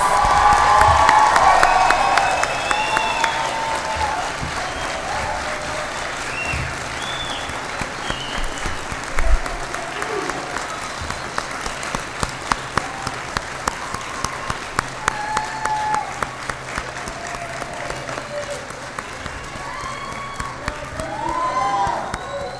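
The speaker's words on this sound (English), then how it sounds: "Let's have a big round of applause for our newly pinned graduate nurses." An audience at a nursing pinning ceremony at CT State Three Rivers applauds newly pinned graduate nurses, with sustained loud clapping from a large crowd and some cheers, fading slightly but continuing throughout.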